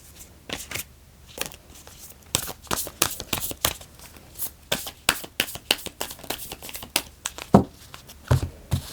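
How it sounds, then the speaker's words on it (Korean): Tarot cards shuffled and drawn, a run of quick papery riffles and slaps in uneven bursts, close and fairly soft, with a few sharper flicks near the end. "좋은 카드를 또 뽑아보겠습니다"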